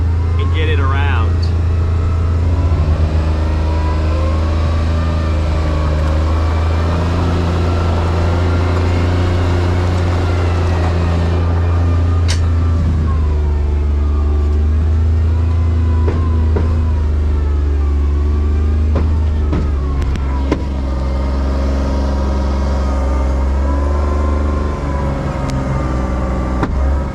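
A tracked Mule utility vehicle's engine pulls steadily with a loud, continuous low drone and shifting whine, running close throughout the whole stretch.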